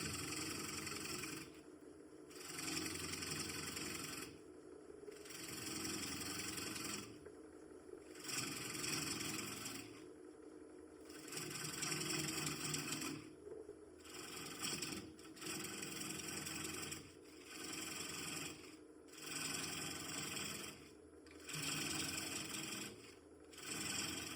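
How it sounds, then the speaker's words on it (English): A wooden bowl is re-turned on a lathe with a square end scraper: rhythmic scraping passes rise and fall in regular bursts over a steady motor drone, close and fairly loud, with no talking. "the square end scraper is a little better for this than the rounded one"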